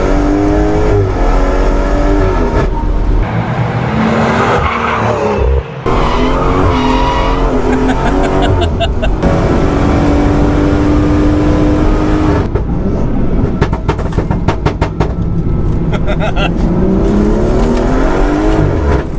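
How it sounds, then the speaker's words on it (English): A 510 bhp BMW M240i engine roars loudly on a track, revving hard through gear changes, with tires squealing and sharp pops and crackles from the exhaust. "I absolutely love how those BMWs sound."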